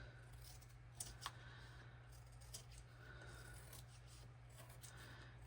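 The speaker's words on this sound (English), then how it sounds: "I'm going to take my large scissors." Large scissors trimming a page of a ring-bound painted journal, a few faint snips and rubbing paper sounds close by, quiet and sparse over a low steady hum.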